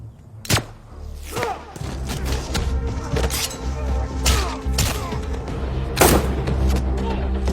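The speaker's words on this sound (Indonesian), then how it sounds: "sementara yang berhasil menghindar lanjut adu tembak dengan O'Brien dan Bobley." Gunfire in a shootout: several sharp, loud shots ring out at irregular intervals over a dense, busy background of rumbling and clatter.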